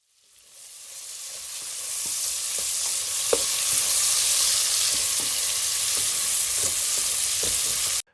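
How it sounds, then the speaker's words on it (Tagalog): Onion and garlic sauté in butter in a pan, making a steady close sizzle that rises quickly and holds, with soft clicks of stirring dotted through it. "Pagkatapos ay gisahin ang sibuyas. At sunod naman ay ilagay ang bawang."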